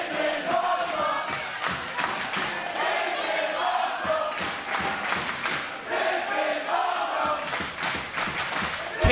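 A wrestling crowd at a Funky Munky Wrestling cage match roars and cheers in loud surging waves, with shouts and scattered thuds rising through the noise.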